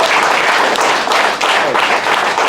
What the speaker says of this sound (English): another round of applause for the champion of the title